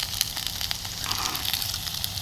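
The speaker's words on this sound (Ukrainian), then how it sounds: "А тут жариться картопелька." Steady sizzling and crackling of potatoes frying in a pan, a continuous close hiss with small pops and no voices.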